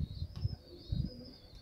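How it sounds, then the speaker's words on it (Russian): Pigeons cooing close by: low throaty coo pulses repeat twice, alongside a thin high whistling tone running through. "Там еще и голуби щелкает."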